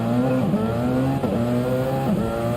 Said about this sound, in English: Revving the car hard. Revving it.